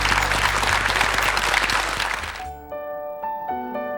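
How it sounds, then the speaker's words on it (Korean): A Korean TV studio audience applauds loudly and steadily for a couple of seconds, then the clapping cuts off abruptly and soft tonal music notes follow. "우리 관지 씨와 그 가족께 우리 힘찬 응원의 박수 한번 보내드리죠"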